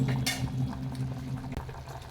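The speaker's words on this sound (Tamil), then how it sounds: "இப்போ நல்லா கொதிக்கட்டுங்க" Mutton kuzhambu gravy boiling in a pot, a soft steady bubbling and popping close by, fairly quiet with no voices.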